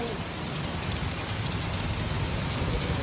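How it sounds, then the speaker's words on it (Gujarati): Steady rain falls in a dense, constant hiss of drops on surfaces, unbroken and fairly close, with no voices. "વરસાદ જો પડે આમ જો"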